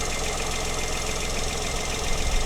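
A 2015 Mk2 Toyota Aygo engine, fitted into a 2010 Mk1 Aygo, idles while it warms up, giving a loud, steady, close-up rumble with a knocking texture and no talking.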